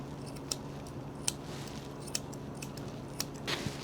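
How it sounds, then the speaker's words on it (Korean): Grooming scissors snip a Maltese dog's hair as it is trimmed, giving a few sharp, brief clicks spaced irregularly over a steady low hum. "그래서 가위는 바깥쪽으로 기울여서 커트해 주세요."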